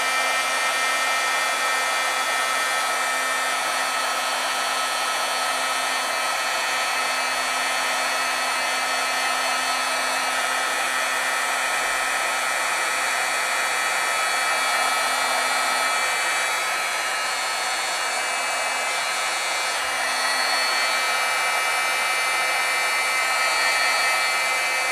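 A heat tool blows continuously at close range while drying a thick layer of ink on stamped paper, giving a loud, steady whirring hiss with a faint hum underneath and no speech.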